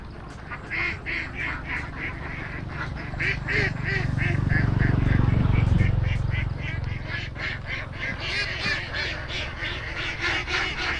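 A huge free-range flock of about 10,000 ducks herded across open fields keeps up a dense, continuous chorus of overlapping quacks, loud and close, over a low steady rumble, with no one talking.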